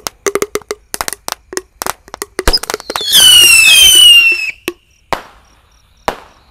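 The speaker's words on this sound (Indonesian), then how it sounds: "ini ada Roket Pyro 5 sekaligus ya. Kita nyalakan." Sharp crackling bangs in a rapid irregular series at night, then a loud whooshing whistle of five Pyro rockets launching at once for over a second, followed by a few distant pops.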